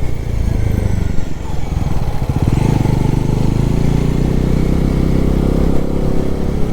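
A Bajaj Pulsar NS400 motorcycle climbs uphill on a ride in Nepal, its engine a loud, steady, close drone that holds throughout with no talking.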